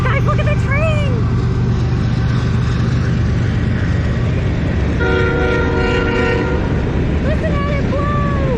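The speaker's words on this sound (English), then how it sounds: "Guys, look at the train!" A train passes near a river, sounding its horn in several long blasts over a continuous rumble of wheels and engine, loud and close; a person talks over it.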